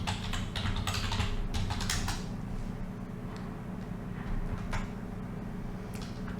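Someone types on a computer keyboard, a quick burst of close key clicks at the start and then sparser taps over a steady low hum.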